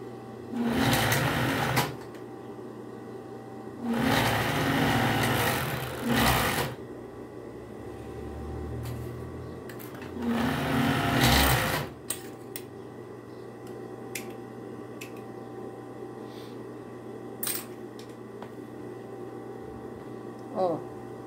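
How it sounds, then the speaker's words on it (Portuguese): A sewing machine stitches a seam on a child's bodysuit in three loud, steady runs of a couple of seconds each, close up, with someone talking in between and quieter ticks and handling sounds after. "a gente vai passar uma costurinha"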